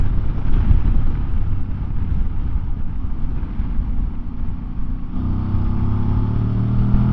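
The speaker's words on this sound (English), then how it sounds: "slow it down to 40 and accelerate in 4th gear" A Voge DS800X Rally motorcycle accelerates in 4th gear from a slowed pace, its engine drone mixed with heavy wind rush. The engine note climbs and strengthens in the latter half, steady and close with no talking.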